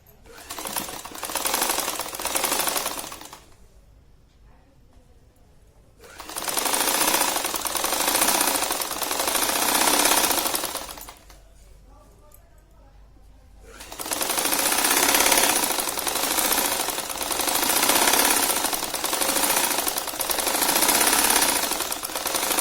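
A sewing machine stitches the edge of a fabric pillow cover in three long loud bursts of rapid mechanical rattling, separated by short quiet pauses, close and alone.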